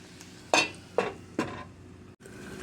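Onions sautéing in a pan for cheeseburgers, a soft steady sizzle punctuated by three distinct scraping stirs, each a brief clatter of utensil against pan.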